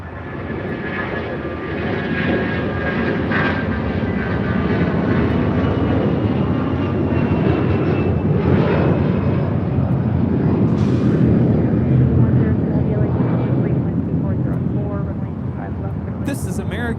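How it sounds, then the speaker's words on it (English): An American Airlines A321 takes off at LAX on its way to Phoenix. A loud, close jet roar fills the whole stretch, swelling and holding steady, with voices talking over it. "Next departure is American Airlines heading to Phoenix, Arizona, A321."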